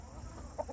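Chickens in a chicken tractor give a brief low cluck near the end of a short stretch of quiet farmyard background.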